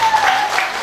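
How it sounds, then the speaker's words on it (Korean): A beachside crowd at a folk performance at Ulsan's Ilsan Beach claps briefly, a loud burst of applause with a faint tonal hum underneath. "박수 한번 주시죠"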